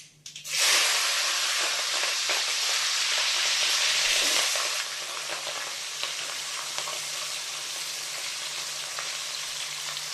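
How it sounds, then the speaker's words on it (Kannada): Green chillies, tomato and other vegetables dropped into hot oil for charmuri, bursting into a loud hissing sizzle that settles after a few seconds into a steady, quieter frying crackle. "ಈಗ ನಾನು ಎಣ್ಣೆ ಬಿಸಿಯಾಗಿದೆ, ಅದಕ್ಕೆ ಹಾಕ್ತೀನಿ."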